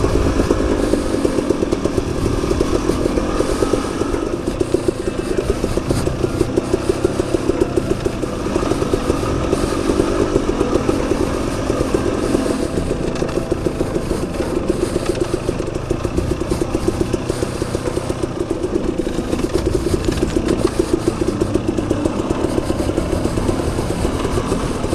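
A motorcycle engine idles high and steady with the clutch pulled in on a windy mountain single-track trail, a continuous close rumble with rapid rhythmic clatter and wind noise, no talking.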